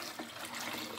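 Tap water runs steadily into a pot for pickling brine, a continuous broadband splashing pour that stays close and moderately loud for about a second, with no voices.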